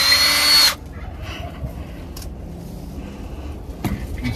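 A power drill driving self-tapping screws into a water tank fire pit whirs loudly for a brief burst, then stops, leaving quiet room noise and a faint knock.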